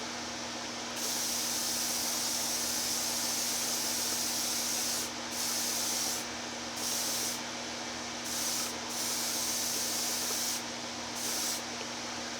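Black Widow airbrush spraying thicker coats of thinned paint, a steady close hiss of air and atomized paint broken by several short pauses as the trigger releases.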